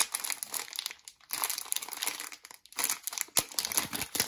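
A tightly sealed plastic zip bag holding small rhinestones is pried open with loud, close crinkling and crackling in irregular bursts and short pauses, with no voices.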